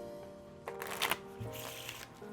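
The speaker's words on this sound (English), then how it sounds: "Let's just give it a good shuffle." A deck of playing cards gets riffled and shuffled by hand, quick flurries of fluttering snaps in a few bursts over a steady electric hum.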